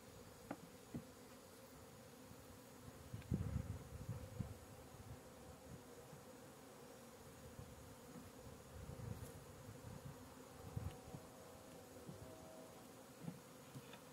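Honeybees in a hive being moved from Langstroth to Layens frames keep up a faint, steady droning hum, with occasional nearby buzzes and small knocks from the handled woodwork and no speech.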